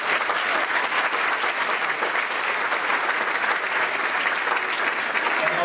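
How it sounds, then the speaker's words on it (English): An audience at a school third grade choral concert applauds, producing dense, sustained clapping that fills the room at an even, loud level throughout. "Give them a big round of applause"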